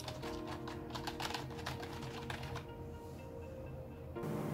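Hard, fast keystrokes on a Razer Cynosa Chroma gaming keyboard with a rubber dome design, a quiet cluster of clicks and taps that stops partway through, recorded faintly with no talking.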